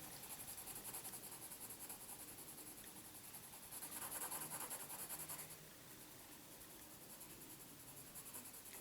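A soft graphite pencil shades across paper in a steady, faint, dry scratching that swells slightly in the middle before easing off, with no voices.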